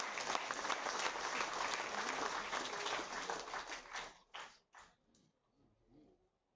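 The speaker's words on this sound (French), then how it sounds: "Je vais vous demander d'applaudir très très fort" Warm audience applause at a public gathering, a dense steady clapping that tapers off to a few final claps and then near silence.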